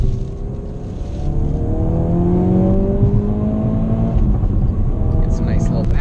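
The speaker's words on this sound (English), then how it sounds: "I'll get you a little second gear pull here up on the ramp." A 2017 Ford Focus RS accelerates hard in second gear up a ramp in normal mode, heard from the driver's seat, its loud engine note climbing steadily in pitch throughout.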